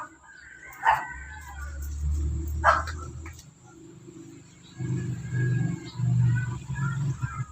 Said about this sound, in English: That's the puppies saying, hey, why can't we come outside?